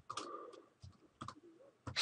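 Quiet clicks of typing on a computer keyboard, a few short bursts of keystrokes with small gaps between them, close and faint.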